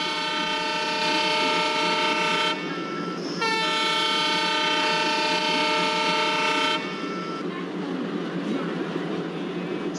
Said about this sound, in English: let's move throttle forward and let's make a long horn and let's slowly depart Shimoga town